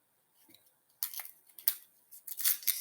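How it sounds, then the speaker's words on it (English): A red onion being sliced with a knife on a board for a vegan spinach sauce, a faint stroke or two followed by a run of crisp, close cutting strokes that come in bursts. "now we'll need to cut our onion for the spinach"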